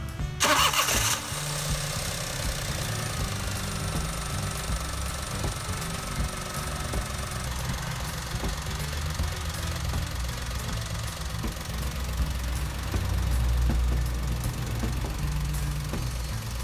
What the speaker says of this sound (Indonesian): Kita nyalakan mobil, posisi mati ya.